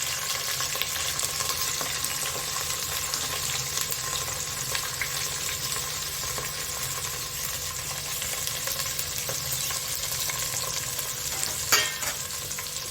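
Mixed vegetables for undhiyu fry in a hot tempering with a dense, continuous sizzle and hiss, steady throughout with a faint stir near the end.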